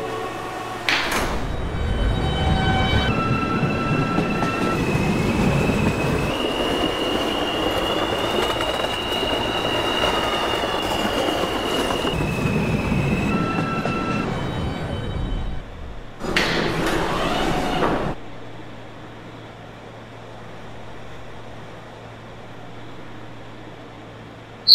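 An R160A subway train on the M line in Roblox runs with a steady rumble and rising and falling motor whine, then doors slide and thud before the sound drops to a quieter idle hum.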